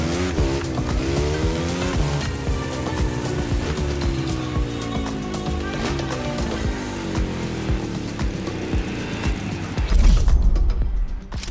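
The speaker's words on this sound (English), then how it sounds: "The car you're about to drive in this opening event is none other than the first Ferrari in the supercar bloodline, the Ferrari GTO." A Ferrari GTO races in The Crew Motorfest, its engine revving up and down through gear changes with repeated rising pitch sweeps, tires squealing and skidding, loud and continuous, ending in a heavy thump.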